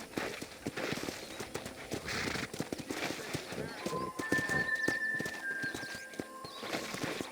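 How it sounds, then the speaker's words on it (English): Horse hooves clip-clopping at a gallop in the Red Dead Redemption video game, a quick, continuous rhythmic patter, with game sounds and a voice over it. "let's see if you can still ride a horse."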